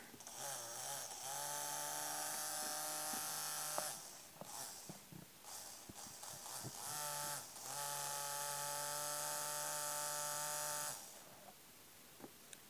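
A homemade edging saw whines at a steady electric pitch in two long stretches, with a loud buzzing drone that cuts out in the middle before it starts up again. No one speaks.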